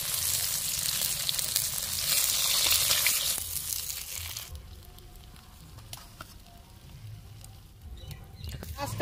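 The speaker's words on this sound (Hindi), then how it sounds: "घास काट मछली हम फ्राई कर लिए हैं" Grass carp fish frying in oil in a kadai gives a loud, dense sizzle for the first few seconds, then fades to quieter crackling and light pattering.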